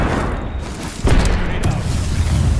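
A grenade detonates in a multiplayer shooter video game, one loud sharp boom about midway with a rumbling tail, amid steady game noise and team voice chat.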